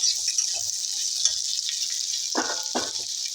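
Onion, bay leaf, whole cumin and dried chilli frying in oil give a steady soft sizzle, broken near the end by two louder scraping strokes of a spoon stirring the pan.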